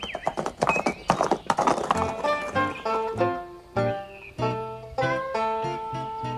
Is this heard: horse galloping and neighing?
yes